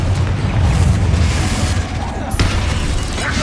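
A Confringo fire spell blasts in Hogwarts Legacy combat, a loud booming roar with a dense rumbling low end that swells, dips briefly, then bursts again, mixed with crackling game effects and a voice faintly underneath.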